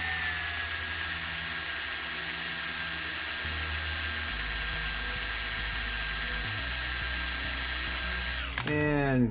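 A drill bores steadily into a die-cast metal casting at slow speed, a continuous close mechanical whine with shifting low grinding, winding down with a quick falling sweep at the end.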